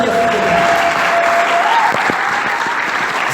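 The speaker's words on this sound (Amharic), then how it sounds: "አጨብጭቡ ለእግዚአብሔር ክብር።" A church congregation claps together in dense, sustained applause, loud and continuous throughout, with a faint held tone beneath.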